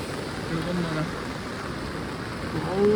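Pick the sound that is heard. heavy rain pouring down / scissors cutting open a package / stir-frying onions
heavy rain pouring down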